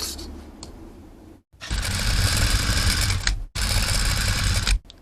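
Sewing machine stitching the binding onto a mesh tank top runs in two loud sustained bursts separated by brief stops, with a quieter mechanical whir at the start, close and without speech.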